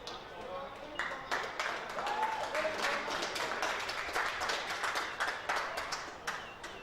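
Crowd applause at a grassy Sydney under-19 Australian football grand final, rising as a player comes off the field late in the fourth quarter; steady, moderately distant clapping spread across the stands, with a faint voice over it.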